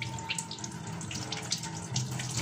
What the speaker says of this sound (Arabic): طبعا انا دلوقتي بغسل غسلت ايدي اول